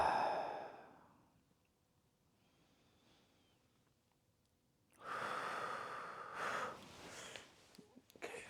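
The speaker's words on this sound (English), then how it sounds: "Breathing exercises." Deliberate breathing exercise, with a slow audible breath at the start, a long quiet hold, then a loud, forceful exhale that stays close and breathy for several seconds.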